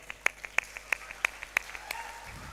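Sparse, evenly spaced handclaps, about three per second, from an audience applauding quiz winners at a student developer event. The claps are faint and thin, with quiet room noise between them.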